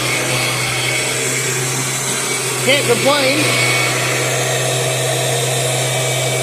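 A 2000 limited-edition Kirby Generation 6 upright vacuum cleaner runs with a steady, loud motor drone and constant whine throughout, while someone speaks briefly over it partway through.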